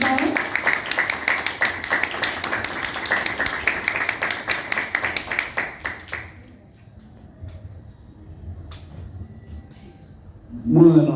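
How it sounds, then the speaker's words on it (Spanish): Audience applause welcoming guests at an academic lecture event, Cátedra Villarreal: dense, steady clapping from a room full of people for about six seconds, then quiet room tone before a voice starts at the end. "los recibimos con un fuerte aplauso"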